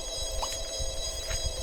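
A telephone rings in The Sims 2, a steady electronic trill with a small chirp on top, heard over the game's constant background music.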